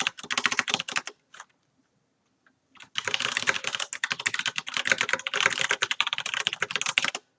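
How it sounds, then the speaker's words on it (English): Rapid, close clicking of a computer keyboard in two bursts of fast typing separated by a short pause with a few isolated keystrokes. "you'll see me typing because there's like a 15-second delay"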